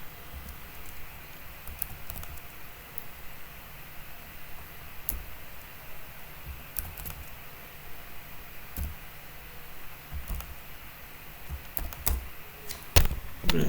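Keystrokes of someone typing code on a computer keyboard, soft and steady with irregular clicks and a few sharper taps near the end, over a low background hum.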